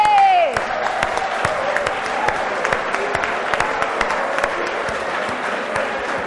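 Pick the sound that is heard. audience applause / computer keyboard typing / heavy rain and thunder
audience applause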